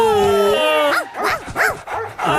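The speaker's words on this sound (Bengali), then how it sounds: "মনে হচ্ছে আমাদের পেছনে অনেকগুলো কুকুর লেগে আছে।" A pack of cartoon dogs in the animated series Motu Patlu, with a long whining tone followed by a quick run of close, high, springy yips and barks.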